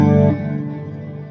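Distorted Squier Standard Stratocaster from 2018, played through its bridge single-coil pickup, rings out as one loud, fizzy, harmonically dense chord. The attack sustains briefly, then slowly decays with an effects-laden sheen.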